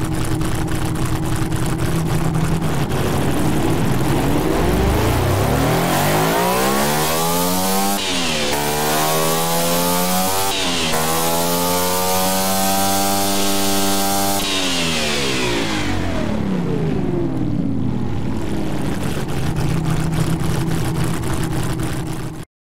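Simulated 4-liter V16 Formula 1 engine in a racing video game, revving loudly and continuously, pitch climbing high toward 12,000 RPM, dipping briefly twice between blips, then falling back toward idle before cutting off.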